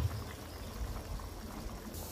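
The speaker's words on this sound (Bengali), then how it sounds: "বলক চলে আসছে।" A cooking pot of water with green chillies comes to a boil, a soft low bubbling and rumble that runs steadily for a couple of seconds, close but quiet, with no talk.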